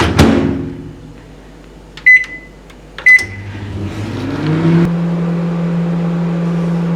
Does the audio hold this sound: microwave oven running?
yes